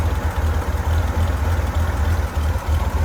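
A rebuilt 1966 Chevrolet Corvair engine, bored 30 over with a competition cam, idles steadily nearby with a deep, lumpy burble and a rhythmic low-end pulse throughout, and no one talking.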